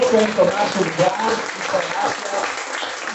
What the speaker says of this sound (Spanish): Vamos a dar un aplauso fuerte a nuestro Padre Dios.